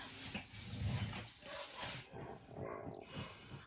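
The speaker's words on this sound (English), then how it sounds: "I'm going to go let the dogs in." Dogs bark and whimper faintly at a distance under steady background noise in a home, with no clear talk.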